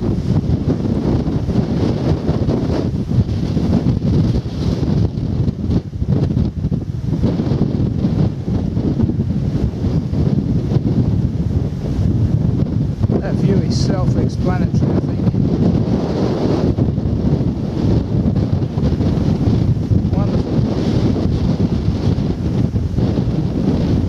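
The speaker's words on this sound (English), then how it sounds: "So I'm now on top of the ridge, hence the increase in wind speed" Strong wind blasts across the top of an open ridge on a countryside walk, a constant loud roaring buffet of gusts against the microphone with faint talk underneath.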